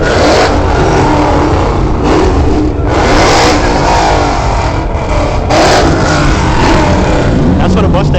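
A Ford Mustang at a Killeen car meet revs hard in repeated loud bursts that rise and fall over several seconds, close and aggressive, with people talking in the background.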